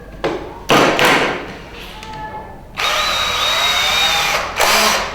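A power drill with a small 1.5–2 mm bit bores pilot holes in timber for a bird box, in several loud whirring bursts separated by short pauses.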